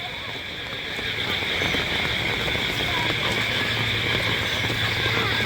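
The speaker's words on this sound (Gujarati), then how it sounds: "બહુ વરસાદ" Steady heavy rain patters and hisses on a hard surface, dense and constant, growing slightly louder after the first second, with water flooding a house.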